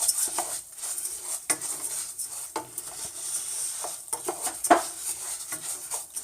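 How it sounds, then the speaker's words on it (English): Rice for a Mexican-style side dish is stirred in a pan, with repeated scraping and clinking of a utensil against the metal in an irregular rhythm over a faint sizzle. "You want to stir this every 2 minutes."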